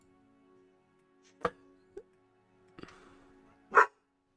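A few dogs bark in short, separate bursts, some sharp and some fuller, over a quiet background with a faint steady hum.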